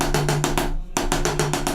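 Snare drum played in a drum corps etude, with rapid rhythmic strokes in repeated groupings, a brief gap midway, then the pattern resumes, loud and close with no talking.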